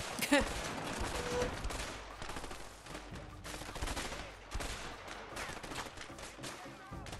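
Rapid gunfire crackles through a shootout in the video game A Way Out, dense bursts of shots blending with game effects, with a voice talking over parts of it.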